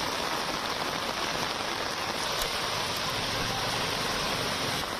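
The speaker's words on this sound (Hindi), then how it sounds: "मूसलाधार बारिश का दौर यहां पर जारी है।" Heavy monsoon rain pours down in a dense, unbroken hiss that stays loud and even throughout, with no voices.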